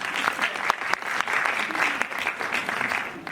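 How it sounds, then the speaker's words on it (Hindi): An audience claps at a traditional nautanki folk theatre performance, a dense, even wash of applause lasting the whole stretch, moderately loud with occasional sharper hand strikes. "ताली बजाओ"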